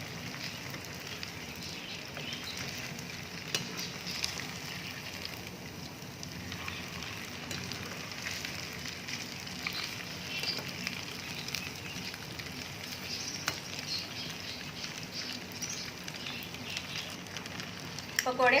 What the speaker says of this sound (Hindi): पकोड़े फ्राई हो गए